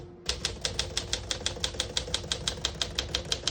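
Typing on a 1955 Smith-Corona Silent-Super portable typewriter comes as a fast, even run of sharp mechanical key strikes, close and crisp, about six clacks per second with a faint background hum.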